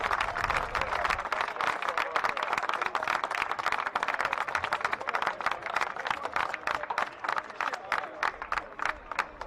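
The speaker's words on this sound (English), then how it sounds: "Gets a round of applause." A crowd at a college rugby match between Brown and Dartmouth applauds an injured player, with steady, dense clapping from across the stands lasting throughout.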